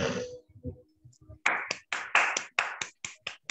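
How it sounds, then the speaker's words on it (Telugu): A group of people clapping in a Christian music college class, starting with a few soft scattered claps after some speech, then a run of sharp, evenly spaced loud claps in unison. "చప్పట్లు"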